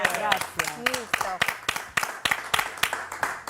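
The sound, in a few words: audience applause welcoming podcast guests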